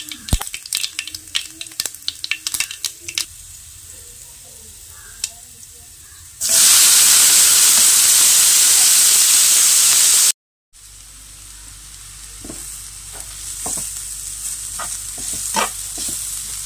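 Mustard seeds fry in hot oil for a banana blossom stir-fry. Scattered crackles and pops give way to a loud, roaring hiss for about four seconds, then it cuts off abruptly and a quieter, popping sizzle follows.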